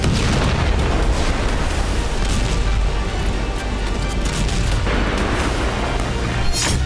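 Heavy rumbling booms and blasts of war in Ukraine roll on continuously, loud, with sharper crackling bursts near the end.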